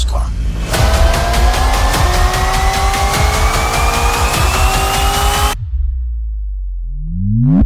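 A car accelerates hard with squealing tires, its engine rising in pitch through a sustained loud roar and rapid pulsing, close, then cutting off into near silence before a brief revving sweep returns.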